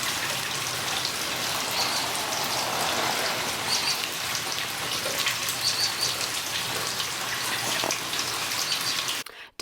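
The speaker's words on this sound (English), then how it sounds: "Don't you just love the sound of a good rainstorm?" Spring rainstorm in Arkansas: dense, steady hiss of rain falling on surfaces with scattered close drips and patters, continuous throughout before cutting off abruptly at the end.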